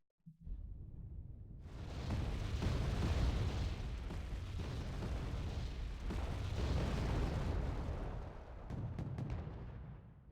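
Heavy counter-mortar artillery fire in a Red Dragon strategy match rolls on as continuous booming blasts and rumbling explosions, loud and sustained with overlapping impacts.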